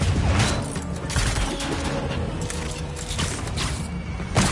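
Gunfire erupts in Marvel's Spider-Man 2 as dense bursts of shots crack and thud in rapid succession amid crashes and impacts, loud and close, with no speech.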